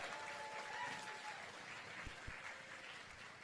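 Steady applause from a crowd at an awards ceremony, a broad even patter of clapping that holds throughout at moderate level, with a couple of low thumps near the end.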